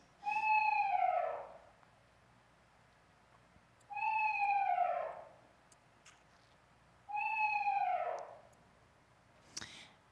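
Eastern screech owl giving its horse-like whinny call, three separate descending quavering calls at regular intervals, each lasting about a second and a half, clear and fairly close with quiet gaps between.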